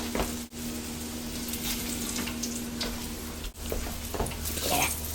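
Fish sizzles in oil in a flat frying pan over a big burner, a steady crackling hiss with faint spatters running continuously, close by, with two brief dips.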